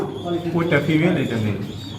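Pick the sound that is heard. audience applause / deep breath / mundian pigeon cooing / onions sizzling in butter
mundian pigeon cooing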